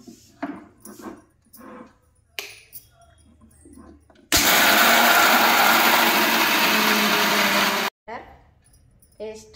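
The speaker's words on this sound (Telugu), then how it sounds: "మిక్సీ జార్లో వేసుకుని మిక్సీ పట్టుకోవాలి." A mixer grinder jar grinds roasted, peeled peanuts into peanut butter, a loud continuous motor whir lasting about three and a half seconds that starts and stops abruptly between stretches of talking.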